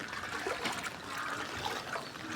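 Continuous sloshing and trickling of deep floodwater in a residential subdivision, steady and close, as someone wades through it, with no voices.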